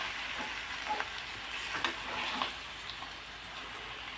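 Tandulkundra leafy greens fry in a wok as they are stirred, a steady soft sizzle with a few faint scrapes of the spatula, close but quiet, with no talking.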